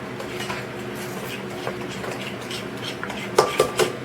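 A utensil stirs strawberry cake batter in a bowl, producing close, soft scraping and swishing, then three sharp clinks against the bowl near the end, with no one talking.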